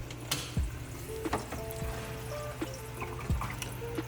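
Water drains back into the sump of a Red Sea Reefer 350 V3 aquarium after the return pump is switched off, a quiet steady trickle and pour with occasional soft drips and splashes.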